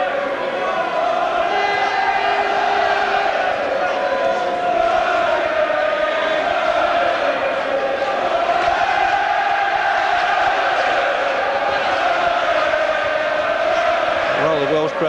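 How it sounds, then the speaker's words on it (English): A boxing arena crowd singing and cheering before a featherweight bout, a dense continuous roar of many voices with chant-like swells, while a commentator talks over it. "Crowd, Jim, already in good song."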